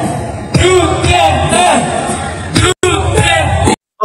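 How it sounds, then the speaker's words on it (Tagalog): A crowd at a PDP political rally in Rizal province shouts and yells together in a loud, continuous roar, with voices rising and falling and two brief cuts to silence near the end. "Ito yung mismong sumisigaw mga kababayan."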